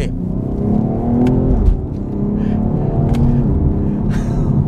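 Exhaust of a BMW X3 M Competition LCI, a steady loud rumbling drone with a slight rise in revs, heard close and continuous without talking.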